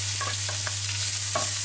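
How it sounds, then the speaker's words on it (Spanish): Chopped onion frying in a pan of hot olive oil: a steady close sizzle with a few soft clicks of stirring, with no voices. "he puesto una sartén con 4 cucharadas de aceite de oliva a calentar y la cebolla la he troceado menuda y la vamos a sofreír"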